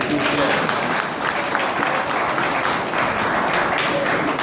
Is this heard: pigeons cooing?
no